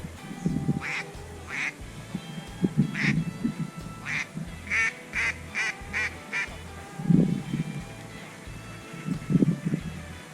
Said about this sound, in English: another wave once again descended upon us, and it was probably the biggest wave that we saw all day, and there was just ducks everywhere